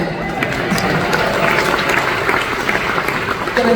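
Audience applause fills a hall during a rock and roll hall of fame induction ceremony, a steady dense wash of many hands clapping throughout with a few faint cheers mixed in.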